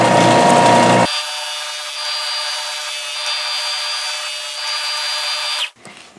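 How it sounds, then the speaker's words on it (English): A power sander grinds steadily against the back of a folding knife part for about five seconds, a continuous whine with rubbing, starting after a loud first second and cutting off at the end. "So I want to do that here by sanding this a bit on this sander."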